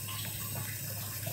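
Booster pump running for an RO/DI water system, a steady, close mechanical hum with a low tone under a broad rushing water noise, constant throughout with no talk.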